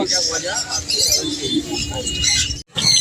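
Budgerigars chirp and chatter in a busy Sunday bird market, a dense, bright twittering of many birds close by that runs throughout under people talking.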